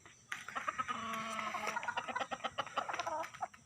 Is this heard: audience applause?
no